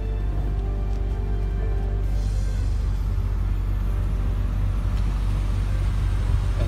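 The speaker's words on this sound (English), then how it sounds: "Hear that low rumble that every sports car has." The engine of a 2012 BMW 135 idles after starting, a steady low rumble that stays close and constant throughout, with no talking over it.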